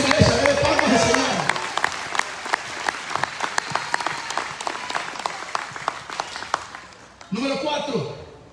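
A church congregation bursts into sustained applause during an evangelical sermon, many hands clapping loudly and densely for several seconds, with a preacher's voice talking over the start and resuming at the end as the clapping fades.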